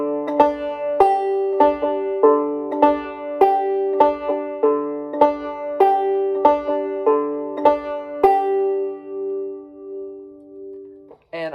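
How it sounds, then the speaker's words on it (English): A clawhammer banjo played with drop-thumb technique, the thumb dropping to the fourth string: clear plucked notes with a bright ringing drone in a steady, bouncing rhythm, played solo and close. "you can even drop your thumb to the fourth string. So it sounds like this."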